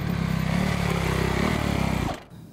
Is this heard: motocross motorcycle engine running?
yes